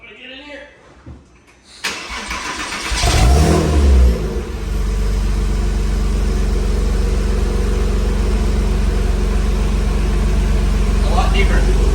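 A Porsche 987 fitted with Soul Performance catless long tube headers starts up and revs loudly, a few close throttle blips that settle into a steady rumbling idle.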